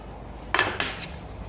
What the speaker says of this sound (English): And then they put it in a frying pan